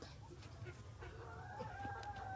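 A backyard chicken clucks softly at a distance, a few short clucks and a drawn-out tonal call over a low background hum, heard alone and fairly faint.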